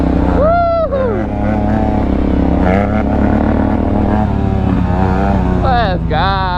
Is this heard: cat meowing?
no